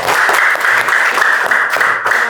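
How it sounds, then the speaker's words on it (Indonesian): Short burst of clapping from a classroom group applauding the first student group after their presentation, loud and close, with a brisk, even texture throughout. "kita beri tepuk tangan untuk kelompok 1."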